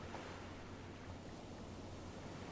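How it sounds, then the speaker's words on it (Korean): Ocean waves in the Stranded Deep survival game roll as a steady, broad wash of surf with a low rumble underneath, continuous and moderately quiet, with no talking over it. "파도 소리 진짜 리얼해"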